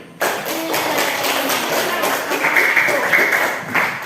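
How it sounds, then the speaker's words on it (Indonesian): Classroom applause from students in an Indonesian lesson, a burst of clapping starting suddenly and continuing as a dense, moderately loud patter with some shuffling and voices mixed in. "Tepuk tangan lagi."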